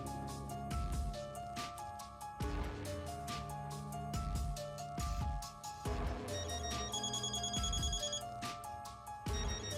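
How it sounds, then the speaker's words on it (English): A phone in a video game rings on and on with a steady repeating bell pattern that plays under game music, each burst separated by short gaps; no one speaks. "this detective won't stop calling"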